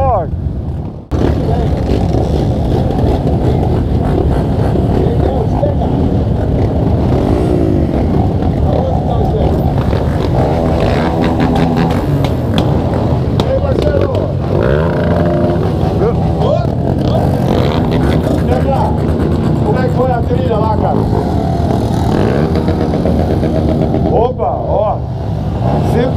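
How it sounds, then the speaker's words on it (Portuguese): A long queue of Honda CRF 250F trail motorcycles at an off-road trail event, with a dense, continuous roar of many engines idling and revving close by, steady and loud throughout, with people talking over it. "Olha só a fila de moto. É muita moto."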